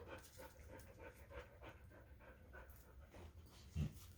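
A puppy named Angus pants with quick, steady breaths close by, a soft rhythmic huffing that runs throughout, with one brief louder bump near the end.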